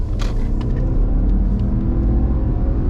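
A Subaru Ascent with a CVT transmission accelerates hard at full throttle from near a dead stop, its engine a steady loud drone with road rumble throughout, up close and with no talk.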